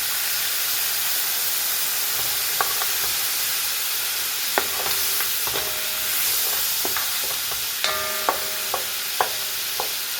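Meat and blended garlic frying in oil in a South African potjie pot: a loud, continuous hiss and crackle close by, punctuated by clanking spoon strikes against the pot as it is stirred, with no talking.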